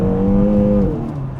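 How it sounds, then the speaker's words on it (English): A 2022 Kia Cerato GT hot hatch downshifts, its exhaust giving a loud, steady droning note that drops in pitch and fades slightly as the revs fall, heard from inside the car. "You can hear the downshift of the exhaust."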